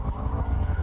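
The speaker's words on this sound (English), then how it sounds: "Skids, Mrs. Wembley, it does skids!" A 2019 Mercedes-AMG GT63 S in drift mode, its tyres skidding with a brief, loud engine roar and scrabbling tyre noise, close and alone.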